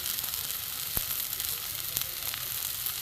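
Spice masala with potato and salt cooks in a pan for banana-stem chops, a quiet, even sizzling hiss broken by a few soft ticks of stirring.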